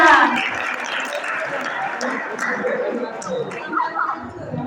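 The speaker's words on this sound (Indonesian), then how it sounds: "tepuk tangan dulu 3 temannya" Classmates clap for three fellow students in a classroom, a steady patter of applause mixed with chatter and voices throughout.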